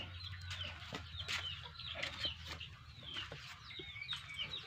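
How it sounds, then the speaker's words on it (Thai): Two turkeys on a Thai farm give scattered clucks and chirping calls over a low background hum, moderately near and fairly quiet, with no talking. "เนี่ยไก่งวงผมเลยสองตัว"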